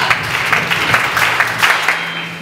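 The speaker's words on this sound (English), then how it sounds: "A round of applause for her." At a PINSTEC 2022 teaching conference, an audience claps for a teacher, a modest round of applause with uneven clapping bursts that taper off toward the end.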